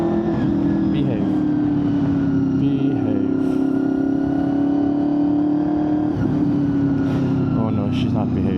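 A Honda VFR800fi motorcycle engine runs steadily up close, with a few sharp pops and crackles breaking through the continuous engine drone toward the end.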